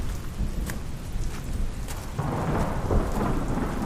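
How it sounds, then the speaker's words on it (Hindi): Steady rain falling, with a low rumble of thunder underneath; the downpour thickens and grows louder partway through. No voices. "आज दोपहर से बारिश हो रही थी"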